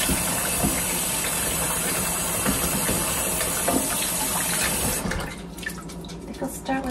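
Tap water runs in a loud, steady rush while wetting the hair of a thrifted vintage Velvet doll, then cuts off near the end, leaving quieter drips and handling noises.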